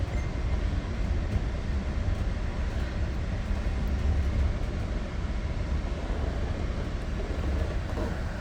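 Inside an exo commuter train on the Mascouche Line in winter, a steady, loud rumble and rolling rail noise fill the whole stretch without letup.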